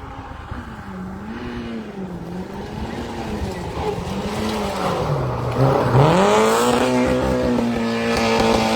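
A rally car passes on a special stage of the 2025 Rallye de Neufchâtel-en-Bray, its engine note wavering through gear changes as it nears, then surging loud past the listener and pulling away.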